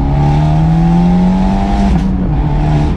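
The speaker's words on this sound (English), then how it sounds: "when we hit that higher RPM in second gear and change, we get a nice kind of pop." A loud, close Abarth 124 with a sport cat exhaust revs high in second gear, and a shift near the end brings a brief drop in pitch.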